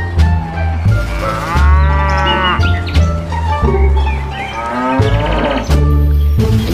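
A toy cow gives repeated loud, drawn-out moos in bursts with short gaps between them, close and clear.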